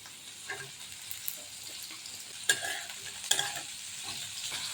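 Potatoes stirred into softened onions and green chillies in a wok, a faint sizzle with clattering stirs and a couple of sharp utensil knocks against the pan, close and quiet.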